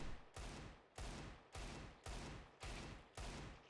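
Desert Eagle pistol shots fired at an even, deliberate pace in an aim-training game map, six or seven heavy reports each followed by a short decaying tail, fairly quiet overall.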